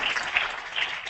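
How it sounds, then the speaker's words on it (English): Brief burst of audience applause at a social media workshop at UMass Boston, a dense wash of many hands clapping at steady volume, heard from a moderate distance with no voices. "we have an applause here"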